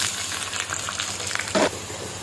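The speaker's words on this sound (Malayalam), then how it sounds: "എണ്ണ ചൂടായി വന്നിട്ടുണ്ട്. ഇതിലേക്ക് സവാള ചേർത്ത് കൊടുക്കാം." Onions dropped into hot oil in a pan give a steady close sizzle with a brief louder crackling burst as they hit, no voices.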